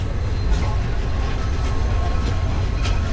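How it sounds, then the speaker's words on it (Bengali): A passenger train pulls away from Bhairab Bazar station in Bangladesh, bound for Kishoreganj, with a steady, loud low rumble of wheels and carriage noise heard from on board and no clear clicks. "আমাদের ট্রেন আবার ছেড়ে দিল ভৈরব বাজার স্টেশন থেকে"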